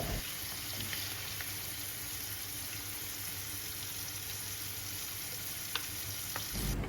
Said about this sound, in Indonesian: Lalu aku lanjut lagi goreng jengkol selanjutnya sampai selesai.